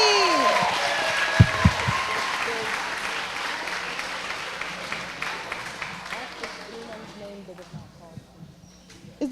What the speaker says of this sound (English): Can we have another round of applause for our graduating class of 2017?